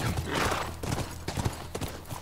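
Horse hooves clip-clop through The Last of Us video game, irregular soft thuds at a moderate distance over a faint background.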